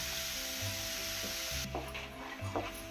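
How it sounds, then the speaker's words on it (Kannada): Mango paste being stirred into melted sugar in a pan for sweet mango holige, a steady sizzle with soft scraping strokes of the spoon, close and moderately quiet. "ಈ ರೀತಿ ಮಾವಿನ ಹಣ್ಣನ್ನು ಸೇರಿಸಿದ ಮೇಲೆ ಚೆನ್ನಾಗಿ ಮಿಕ್ಸ್ ಮಾಡ್ಕೋಬೇಕು"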